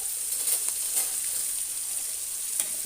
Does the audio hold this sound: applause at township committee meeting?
no